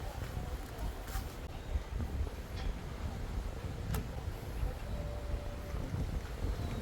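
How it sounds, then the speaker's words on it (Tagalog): Strong wind buffets a beach at Calatagan, Batangas, producing a constant low, blustery roar and rumble across the microphone that lasts about seven seconds with no clear breaks. "Lakas ng hangin"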